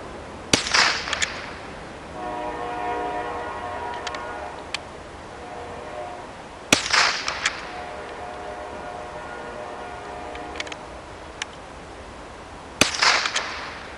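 Three sharp .22 rifle shots of CCI Blazer .22 Long Rifle ammunition crack out several seconds apart, each with a short echo, separated by quieter clicks and handling noises.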